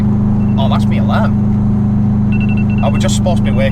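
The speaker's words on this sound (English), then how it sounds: "that's my alarm" While a heavy goods vehicle is driving, a phone alarm sounds as repeated short electronic tones over a loud, constant engine drone inside the cab, with a voice speaking over it.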